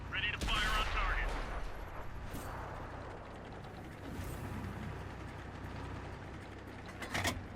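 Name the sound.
tank gun firing in the video game World of Tanks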